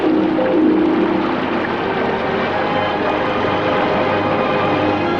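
A waterfall in a 1967 western film pours with a loud, steady rushing roar that fills the whole stretch without letup, close and continuous.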